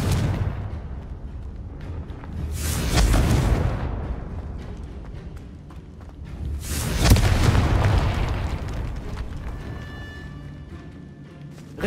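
Confringo fire-blast spells in the Hogwarts Legacy video game, two heavy booming explosions a few seconds apart, each swelling into a broad roaring blast and fading away.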